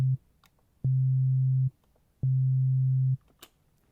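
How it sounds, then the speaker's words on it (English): A low, pure electronic tone from a Casio VZ-1 synthesizer's second oscillator, sounding in two sustained bursts of about a second each, separated by silence, with faint clicks between. "listening to the second oscillator while I'm changing the pitch of the"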